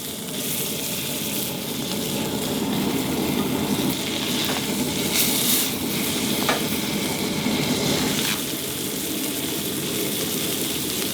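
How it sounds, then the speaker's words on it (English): Steak searing in a pan at a truck-bed campsite, a loud, continuous close-up sizzle that holds steady with faint scraping touches throughout; no talking. "Then you make sure you sear it on the sides."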